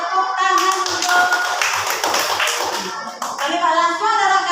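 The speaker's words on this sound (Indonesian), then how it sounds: "tepuk tangan untuk" Primary school children in a classroom clap their hands together in a brisk, rhythmic burst of sharp, close claps, with faint young voices mixed in.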